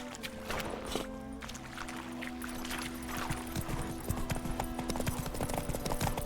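Horse hooves clip-clop steadily in the video game Witcher 3, a close, regular trotting rhythm over a constant hum of game ambience and music.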